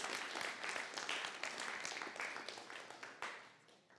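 Church congregation applauding during a service, dense crowd clapping that starts full and gradually fades toward the end, heard from some distance.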